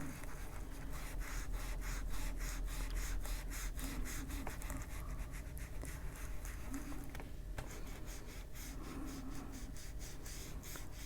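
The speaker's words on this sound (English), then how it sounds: "now down here I'm just going to rub some of the blue ink" Blue ink is rubbed onto paper while an adult coloring page of hydrangeas is filled in, giving a continuous close scratchy rubbing in quick repeated strokes for several seconds.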